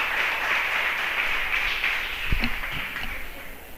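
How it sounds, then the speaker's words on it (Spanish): A church congregation claps together in a continuous wash of applause, with a few louder, closer claps and thumps partway through. "Que le dé un fuerte aplauso al Señor en esta hora."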